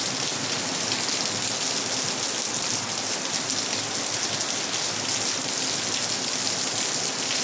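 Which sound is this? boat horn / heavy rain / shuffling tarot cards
heavy rain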